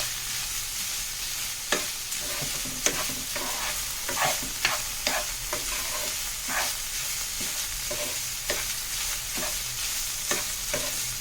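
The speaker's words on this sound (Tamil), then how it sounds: "அரை வேக்காடு அவிச்சு வச்சுருக்கிற ரைஸ் வந்து நல்லா ஃப்ரை ஆகணும்." Half-boiled rice and vegetables frying in oil for vegetable fried rice give a steady sizzle, broken by sharp scraping stir strokes every second or so, close and alone.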